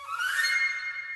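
Pre-recorded flute run from a Symphonic Orchestra library, a quick rising flurry of bright airy notes that swells and then fades into a soft sustained tail, heard alone and fairly quiet.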